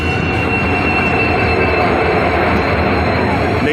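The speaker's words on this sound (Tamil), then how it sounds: "இதுதான் நாங்கள் போகின்ற தரங்கம்பாடி ட்ரெயின்." Tharangambadi train pulling into a station, a loud continuous rumble of wheels on rails with a high whine riding over it, close and steady throughout.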